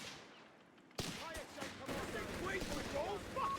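Gunfire in Company of Heroes 3 with British forces: a sudden loud burst of shots, then sustained rattling fire and distant booms in battle, with voices calling out over the din.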